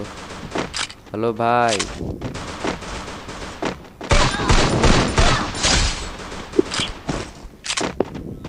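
Gunfire from the mobile battle-royale game Garena Free Fire, bursts of sharp shots and rapid volleys in a busy in-game mix, with someone talking over parts of it.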